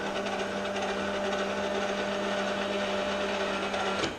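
An 18V Power Wheels motor spins at its stock factory speed, giving a steady, continuous mechanical whir with a constant hum that holds level throughout and cuts off abruptly at the end.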